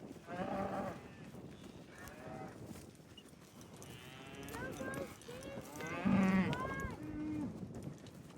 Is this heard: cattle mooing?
yes